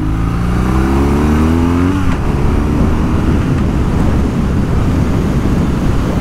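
A BMW R nineT motorcycle built to the Euro 5 exhaust norm accelerates hard. The engine note is loud and close and climbs in pitch for about two seconds, then gives way to a steady roar of wind and engine at speed.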